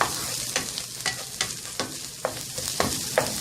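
A dollop of butter sizzling in a hot pan with stuffed chicken, a loud, steady frying hiss broken by regular scraping strokes of stirring close by.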